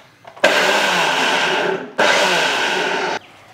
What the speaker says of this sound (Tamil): மிக்சியில் இதை மாதிரி பல்ஸ் மோடில் போட்டோம்னா நமக்கு நல்லா ஒரு மாதிரி பொடிசாக நல்லா ஆகிடும் பாருங்கள்